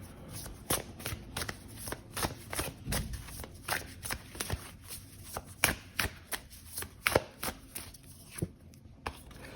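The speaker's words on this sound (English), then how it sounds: "I want to pull an oracle card off the bat here" Oracle cards are shuffled by hand before a reading, giving a steady run of close, crisp riffling slaps about once per second with no talk.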